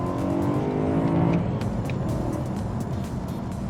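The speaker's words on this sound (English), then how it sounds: "just listen to that exhaust" Deep, rumbling exhaust of a high-mileage BMW E92 M3 V8 burbling steadily up close, the engine idling and revving with a throaty low growl.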